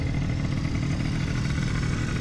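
A restored Zuma scooter pulls away at close range, its small engine holding a steady, throaty mid-range drone with a constant rumble and no talk over it.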